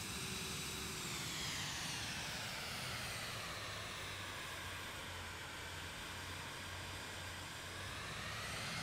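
A Vision Jet G2 in Microsoft Flight Simulator 2020 gives off a steady, broad jet engine roar with a faint whine, constant and unbroken, with no one talking.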